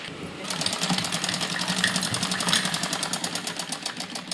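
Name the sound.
sewing machine stitching frock side seam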